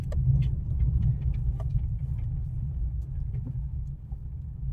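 A car driving on a road and turning left during a driving lesson, its engine giving a steady low rumble from start to end with no speech over it.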